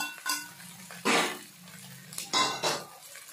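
Ingredients are stirred together in a cooking pan: a few scraping, clinking strokes of a utensil against the pan in short bursts, close and fairly quiet, with no talk.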